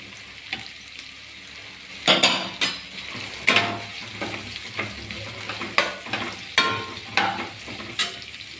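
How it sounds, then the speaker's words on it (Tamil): Onions being stirred and sautéed in a pan for wheat upma, with a steady sizzle of frying broken by repeated scraping strokes of a spoon against the pan, close and fairly clear, with no talking. "நல்லா வதக்கி விடலாம்"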